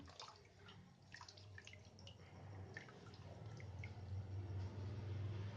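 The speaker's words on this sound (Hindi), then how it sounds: "ये देखिए पूरी तरह पानी गिर जाने दीजिए" Water draining from a removed water purifier membrane filter, a faint trickle with scattered drips over a low rumble, growing slightly fuller toward the end.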